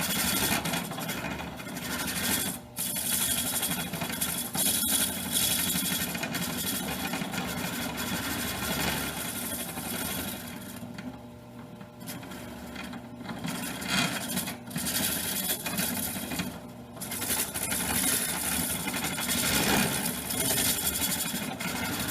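A wood lathe spins a redbud vase blank while a hollowing tool cuts inside it, running in reverse. A continuous loud motor hum and scraping rasp with brief dips and shifts in tone, no speech.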